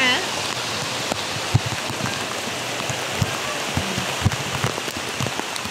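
Heavy rain pours during Typhoon Carina amid floodwater, a dense continuous hiss of drops on surfaces with a few sharp nearby splashes and knocks standing out at intervals.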